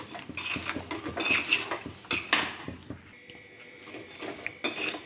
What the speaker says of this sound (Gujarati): તો આ રીતના આપણે મીડિયમ ગેસ ઉપર સતત આપણે હલાવતા જવાનું છે